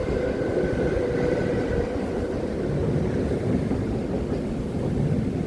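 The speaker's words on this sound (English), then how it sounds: "train is passing by." A train rolls past nearby, a loud, steady rumble of wheels on rails with a continuous low roar and faint high squeal, holding an even level the whole time with no talking.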